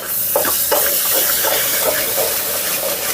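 Ginger garlic paste with a pinch of salt frying in hot oil for chicken curry with bagara rice, giving a steady close sizzle and hiss throughout with faint bubbling crackles and no talking.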